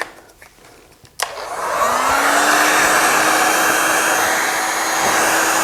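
A heat gun running on full heat to shrink tubing over wires, switching on abruptly into a loud, steady, close airy blowing roar that holds unchanged to the end.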